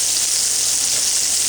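Tuna steak searing in a hot pan, a steady close hiss of frying on its own with no talk.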